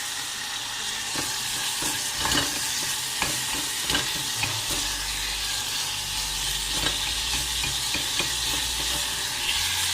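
Diced onions frying in rendered lamb fat, a dense, loud sizzle with frequent scraping and knocking from stirring, close, with a low rumble partway through.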